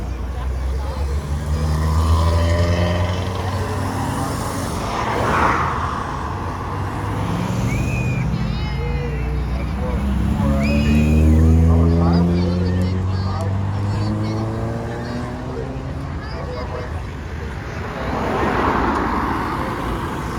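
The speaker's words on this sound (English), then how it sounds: "A bit of traffic here." Road traffic from a run of vintage motorbikes, cars and tractors, a steady rumble of engines with passing vehicles swelling and fading over about twenty seconds, with people talking over it throughout.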